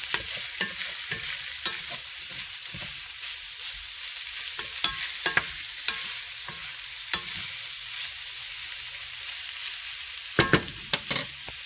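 Vegetables and onion softening in oil in a pot for pancit, a low steady sizzle with frequent spoon clicks and scrapes against the pot, busiest near the end, no talking.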